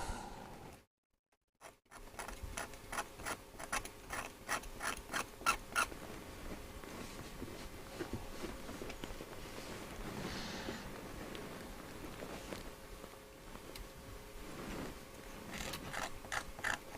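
Small tool scraping a metal contact inside a Sony ICF-SW55 radio during repair, producing faint rapid rhythmic scratching strokes close up after a brief silence, with no speech.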